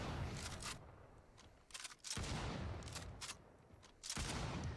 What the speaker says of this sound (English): Hellish double barrel shotgun.